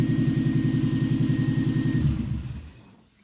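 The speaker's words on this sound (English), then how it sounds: "I can rev the engine up and down, and the RPMs follow" AJS 818 car engine running with a pulsing, throbbing idle that holds steady, then drops away and fades out toward the end.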